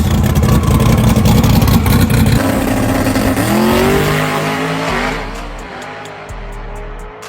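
Small-block trucks drag racing, engines roaring loud and close at full throttle, the revving pitch climbing through gear changes and then fading as they pull away down the strip.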